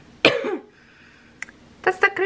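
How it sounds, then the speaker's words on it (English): One sharp, harsh cough bursts out, followed by a quiet pause and then a person speaking briefly. "that's the crazy cough I have."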